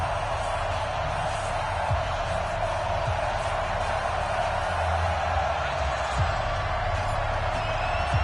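Stadium crowd noise in a Madden NFL football video game before a Mexico City Diablos versus Green Bay Packers night game, a steady broad roar of fans that holds for the whole stretch, with scattered cheers and faint commentary underneath.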